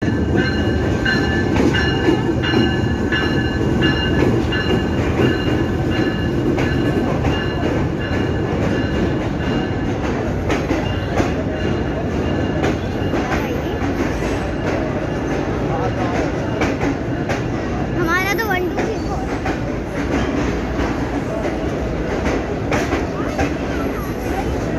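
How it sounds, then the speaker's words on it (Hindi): A train pulls into a station platform in Pakistan amid a busy crowd, its rumbling wheels and rail noise steady and loud throughout, with a brief squeal partway through and people talking in the background. "बस अब ट्रेन आने वाली है।"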